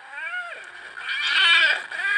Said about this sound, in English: I think it's a kitty. Yes, it's a kitty.